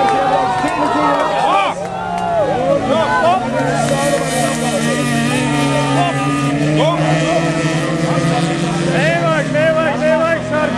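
Front-wheel-drive autocross race cars in free-class qualifying at Ugāle, engines revving and wailing continuously across the track while a commentator talks excitedly over them.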